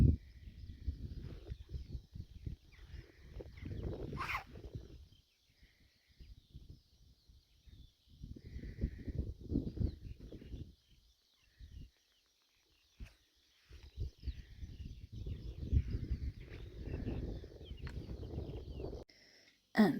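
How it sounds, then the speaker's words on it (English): Birds call faintly and distantly from a quiet hillside near East Lomond and Falkland Hill, sparse chirps over soft wind and rustling, with people's voices murmuring at times. "And the birds sound so beautiful."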